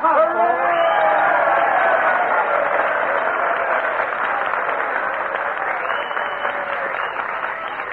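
A live studio audience at a New Year's Eve party at the Biltmore Bowl applauds and cheers loudly and continuously, with voices mixed into the sustained clapping.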